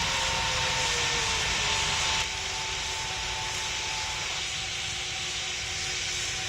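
Air Baltic airliner taking off in the PTFS (Pilot Training Flight Simulator) game, a steady loud jet engine roar with a faint rising whine that carries on evenly throughout and drops slightly partway through.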